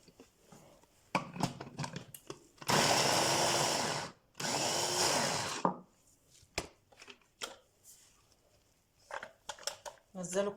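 An electric chopper whirs in two loud bursts as it minces hot green chili peppers, with a brief pause between runs, and a voice talks before and after.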